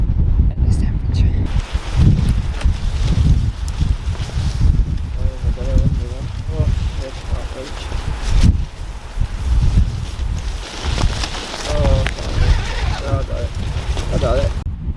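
Strong wind buffets and roars steadily at a lochside tent pitch in Scotland, rumbling against the microphone, with voices faintly mixed in.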